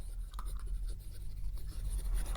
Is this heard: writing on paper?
yes